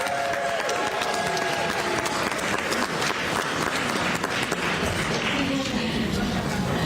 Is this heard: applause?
yes